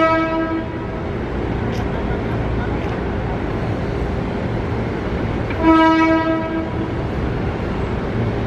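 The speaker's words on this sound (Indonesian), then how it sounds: "Nah, ini kereta penolong masih ada di TKP." Rescue train at the Manggarai railway derailment site in Jakarta, a steady rail rumble with two clear horn blasts, one at the start and one later, as a voice speaks over it.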